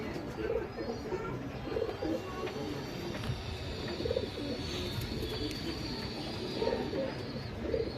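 A male fancy-breed bird gives low, throaty coos, repeating about every second and a half over a steady background hum, close and moderately loud.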